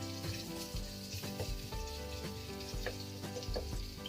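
Garlic sizzles and crackles in hot oil in a wok while kale with oyster sauce is being stir-fried, with a steady frying hiss broken by regular scraping stir strokes.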